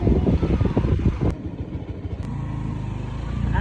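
A tricycle rattles past in the rain, its engine loud and close at first with a clattering, sputtering rhythm. It fades slightly as it goes, while steady rain hiss carries on underneath.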